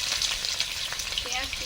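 Potato and eggplant frying in mustard oil with panch phoron spices and bay leaf, giving a brief, steady close sizzle with faint crackles and a small clink near the end.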